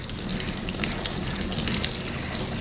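Running water rinses shampoo off a cavoodle dog during a bath, a steady close splashing gush that continues without a break.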